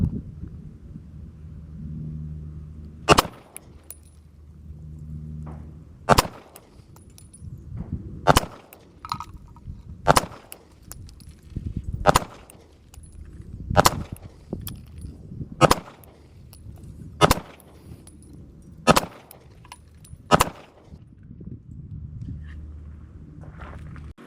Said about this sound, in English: this is the SIG P365XL. We're going to do 10 controlled shots